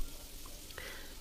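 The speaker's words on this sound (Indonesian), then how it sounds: "kalian masukkan cabai yang udah di blender dengan air ya" Blended chilli and water hits a pan of frying shallots and garlic, giving a short burst of close hissing sizzle with a faint splash.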